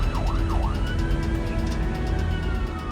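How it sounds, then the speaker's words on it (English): An ambulance siren wails in a rising and falling sweep over steady road and engine noise from inside the vehicle, loud and continuous, with a sustained tone held through the clip. "So we're just going to put the sirens on to make people move out of our way."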